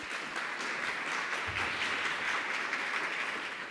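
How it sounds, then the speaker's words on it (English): Soft, distant applause from a conference audience welcoming a keynote speaker on research software engineering, steady and even with no talk over it. "please give her a warm round of applause"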